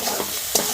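Spice paste with Maggi masala and a little sugar being sautéed in oil in a pan for egg kofta curry, a dense close sizzle with a quick scrape of the spatula partway through.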